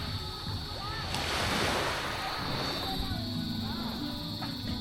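Ocean waves wash against a seashore in a broad, continuous rushing surge that swells and fades. Wind noise comes through, and faint people's voices can be heard under the water.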